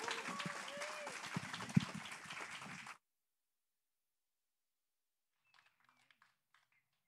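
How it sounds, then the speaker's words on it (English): Church congregation clapping in praise after a worship song, dense applause for about three seconds, then near silence with a few faint scattered claps. "Give him a clap of praise."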